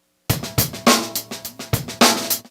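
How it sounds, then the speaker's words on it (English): A plain drum loop plays alone, a steady repeating beat of punchy kick and snare hits with bright cymbal wash, about eight strong hits in under three seconds. "This is a straight up drum loop."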